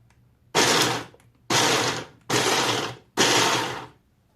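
A blender roars in four short bursts, each about half a second to a second long, with brief quiet gaps between pulses, chopping chebureki meat filling. The whirring is loud and close.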